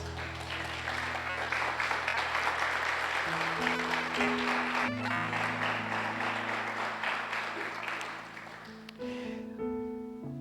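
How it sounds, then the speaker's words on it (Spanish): A church congregation applauds, a broad, steady patter of many hands under sustained keyboard or organ chords, fading near the end as the music carries on alone. "este aplauso es para vos."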